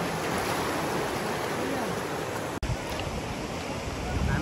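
A river stream flows near Barahakshetra Temple in Chatara, Nepal, giving a steady, close, broadband rush of water with one brief dropout partway through.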